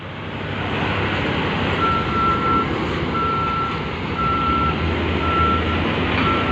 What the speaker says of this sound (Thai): โฟกลิฟมาแล้วครับ เอาท้ายแล้วครับ